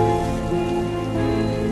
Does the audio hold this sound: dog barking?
no